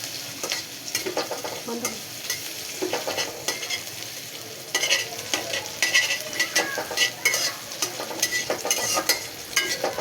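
Chopped onion and green chilli fry in oil while a spoon stirs them, a continuous close sizzle broken by repeated scraping strokes that grow busier and louder in the second half.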